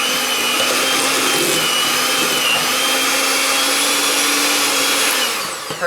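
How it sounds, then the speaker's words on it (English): Electric mixer creaming butter, cream cheese and strawberry powder for strawberry cream cheese frosting, a steady loud whirring drone throughout with no talking, cutting off near the end. "just creaming the strawberry powder with the butter and cream cheese"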